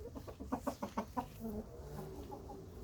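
Backyard hens cluck close by in a quick burst of several sharp, rhythmic calls, then trail off into softer, drawn-out murmuring as a thunderstorm approaches, with no one talking.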